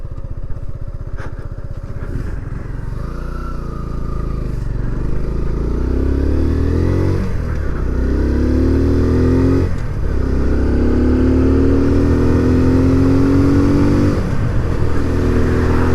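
A 2023 Kawasaki Z125 motorcycle, new and still being broken in, is ridden with clunky gear shifts. The loud close engine revs and climbs through the gears, and its pitch drops at each shift with a brief dip and clunk.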